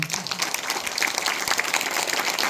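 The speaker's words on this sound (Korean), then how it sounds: "큰 박수로서 환영해 주시기 바랍니다" Loud, dense applause from an audience welcoming guests, Buddhist nuns and monks being introduced at a temple food ceremony, sustained clapping close by with no speech over it.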